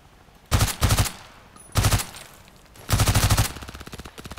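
A Magpul PDR-C SMG fires in Contract Wars in three loud, close bursts of rapid automatic shots, the last burst longest, with a short mechanical clatter trailing off afterward.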